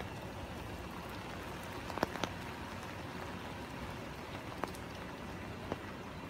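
Steady rain falls during a thunderstorm in New York City, a soft continuous wash with a few sharper drips or taps standing out now and then, moderate and unbroken throughout.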